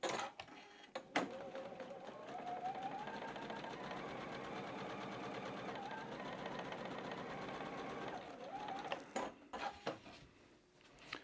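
A sewing machine stitches quilt fabric for a poinsettia quilt, running steadily for about eight seconds with a fast, even mechanical whir, bracketed by brief handling clicks and thumps at start and end.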